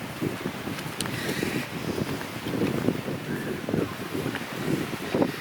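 Steady wind rushing and buffeting the microphone, with a low churning roar of rough surf underneath on an Indian beach, continuous and fairly loud.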